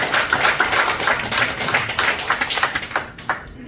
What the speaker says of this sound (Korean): 감사 박수